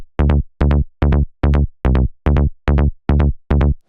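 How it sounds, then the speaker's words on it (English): Offbeat trance synth bass, a filtered saw-like tone pulsing in nine evenly spaced, punchy notes, loud and up front with nothing else playing. "And now you have this offbeat kind of trance sound."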